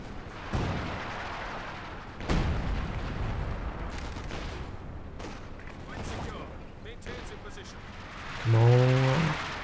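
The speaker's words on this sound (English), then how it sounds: "The howitzer firing on you." Howitzer shells fire in a Company of Heroes 2 match, a few sharp booms spaced apart over steady battle noise, with someone commentating throughout.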